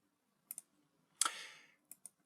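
A computer mouse clicks quietly: a quick double click, then a brief rustling burst, then another soft double click, in an otherwise silent room.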